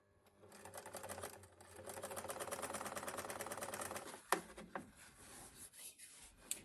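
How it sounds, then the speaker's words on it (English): A sewing machine runs in quick rhythmic bursts as it stitches fabric pieces together for a purse, then stops, followed by a few sharp clicks and soft handling sounds. "sew them down all the way to the end."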